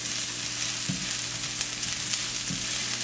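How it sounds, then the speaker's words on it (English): Onions and garlic sizzle in hot oil in a cast iron pan, a steady broadband frying hiss with a couple of soft stirring knocks, close and continuous. "Once that get heated up, throw the onions and garlic in there."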